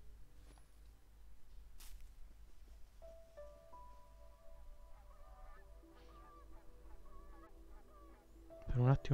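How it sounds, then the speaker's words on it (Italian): Honking fowl calls from Unravel Two, like a flock of turkeys, heard as tonal hoots and honks from about the third second, moderately faint over a low ambient rumble, with a louder burst at the very end. "Per un attimo mi sono sembrati uno stormo di tacchini."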